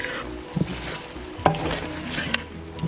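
Teriyaki shrimp sizzles in a thickening sauce in a pan, a steady frying hiss broken by a few sharp clinks and scrapes of a utensil against the pan, close and fairly loud with no voices.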